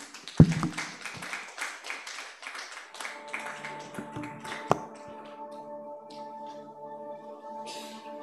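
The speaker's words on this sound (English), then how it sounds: "let's hear, with a round of applause" Audience applause welcoming a performer, with dense clapping that thins out over about three seconds before steady tones take over.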